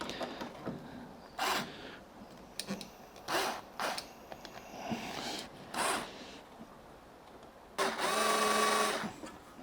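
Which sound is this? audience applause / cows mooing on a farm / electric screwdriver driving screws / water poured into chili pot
electric screwdriver driving screws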